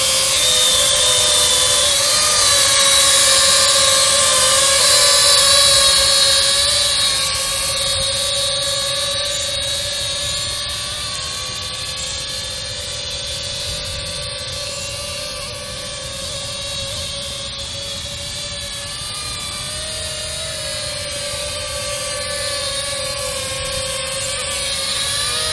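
A SIMTOO Moment selfie drone hovers outdoors in wind, its propellers giving a steady, close, high-pitched whine with a constant tonal hum that sways slightly in pitch and level throughout, no voices.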